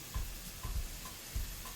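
Cajun shrimp frying in a pan give a quiet steady sizzle, with soft low thumps recurring about every half second, like stirring or shifting in the pan.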